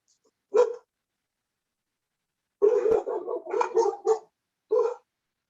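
Dogs barking indoors during a chair yoga session: a single bark, a pause, then a quick run of several close, loud barks and one last bark after a short gap.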